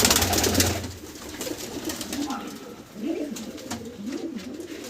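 Pigeons, including young Teddy and Golden birds, coo in soft, repeated rolling calls against a steady hum of background noise, several birds overlapping at moderate distance.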